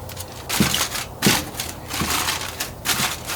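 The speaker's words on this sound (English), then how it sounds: "That is aluminum foil or paper towels." Aluminum foil being crumpled and handled for camp cooking, in several separate crinkly bursts spaced about half a second apart, close and fairly loud, with no talking.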